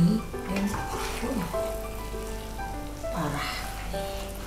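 Ayam woku chicken and spices are stirred in a hot pan, with a soft steady sizzle running throughout while a person talks over it.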